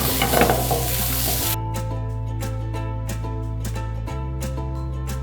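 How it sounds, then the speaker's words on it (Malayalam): Carrots, beans and cauliflower sizzle in butter in a pan, a dense loud hiss at first, then steady frying crackle with a background hum and occasional stirring ticks, no voices. "നമ്മൾ വെജിറ്റബിൾ സോട്ട് ചെയ്യാനായിട്ട് ബട്ടർ ഇട്ട് കൊടുക്കാം"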